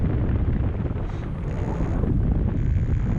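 Strong wind at a paragliding landing site, a loud continuous roar and rumble buffeting the microphone with no pauses.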